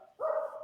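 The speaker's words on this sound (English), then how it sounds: "We've had 2 dog incidents on here." A single dog gives a short, tonal bark or yelp, close and fairly loud, standing alone against a quiet background.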